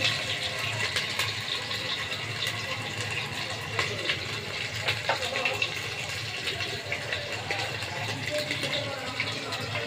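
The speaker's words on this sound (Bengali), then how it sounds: "পানি দিয়ে দিচ্ছি।" Water pours steadily into a cooking pot already holding turmeric, ginger, garlic and salt, a continuous splashing gush that runs for the full ten seconds at an even level.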